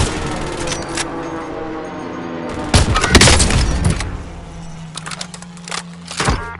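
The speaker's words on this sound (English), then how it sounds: "Authorizing airstrike on my vector." Airstrike explosions in a military video game, a run of heavy booms and crackling blasts bursting over a rumbling background, with a final thump near the end.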